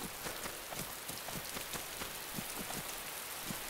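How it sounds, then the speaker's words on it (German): Rain in the video game DayZ, a steady, soft patter of drops on surfaces, continuous and fairly quiet with no voices. "Oh, jetzt regnet es wieder."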